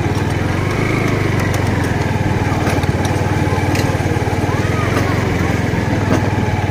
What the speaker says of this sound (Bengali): চাক্কা স্লিপ করছে।